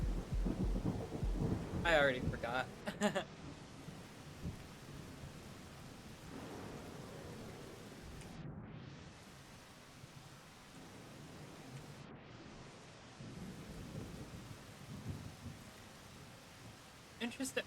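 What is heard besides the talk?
rain and thunder in the Rain World video game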